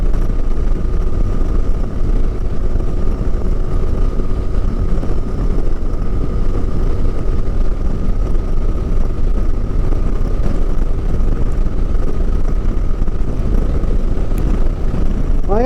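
A KTM 390 Adventure motorcycle cruising along the Kolar highway, a steady continuous engine drone and wind rush filling the scene at constant loudness, with no talk.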